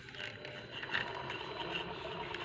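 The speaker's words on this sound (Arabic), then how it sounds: "هنشغل الموتور زي ما انتم شايفين كده مع بعض" A three-phase electric motor runs on a single-phase supply through an inverter, giving a faint, steady mechanical hum and whir that holds evenly throughout with no speech.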